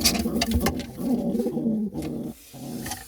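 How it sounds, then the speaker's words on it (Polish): Pigeons cooing close by, soft repeated throaty coos in a continuous run, with a brief pause near the end and a few faint background noises. "Takie gołąbki to są."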